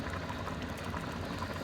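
Rhubarb red pepper jelly at a rolling boil in a pot after about 50 minutes, giving a dense, continuous bubbling and popping close by with no talking.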